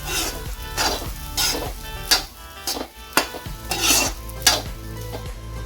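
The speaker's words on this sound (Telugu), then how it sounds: "ఇప్పుడు బాగా దీన్ని మిక్స్ చేసుకోవాలి" A mixture of egg and rice is stirred in a hot pan, giving a loud, close sizzle broken by repeated scraping, knocking strokes of a spatula at an uneven rhythm.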